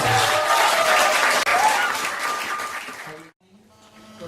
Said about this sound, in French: Est-ce que nous pouvons encore acclamer pour le nom du Seigneur?